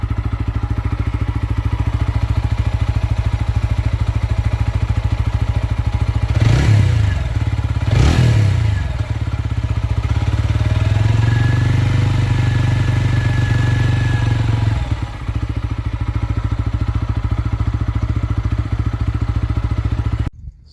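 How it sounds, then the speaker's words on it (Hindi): A TVS Apache motorcycle, freshly refilled with Shell 10W-40 fully synthetic oil, idles steadily up close with a continuous low mechanical thrum, broken by two quick throttle blips and then a longer raised-rev stretch before settling back to idle. "तो ऑयल चेंज, एक बार इंजन की आवाज़ सुन लो।"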